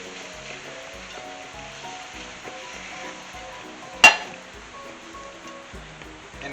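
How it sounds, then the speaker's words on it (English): Beef broth being whisked into a flour roux for Swedish meatball gravy, a steady low sizzle and soft stirring with faint clinks, a sharp metallic clink of the whisk against the pan standing out once midway. "Just going to whisk this in."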